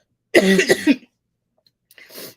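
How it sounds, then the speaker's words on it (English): A single loud, close cough, then a short pause and a quieter breathy cough or exhale. "My cough is crazy."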